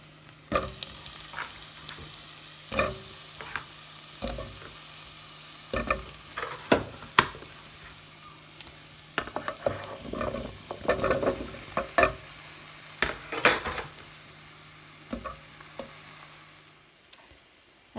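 Halved Brussels sprouts and chopped potatoes tumble into a pot in a run of irregular knocks and clatters, with scattered thuds and scrapes over a quiet background.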